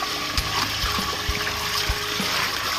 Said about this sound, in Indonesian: ini seperti anak sungai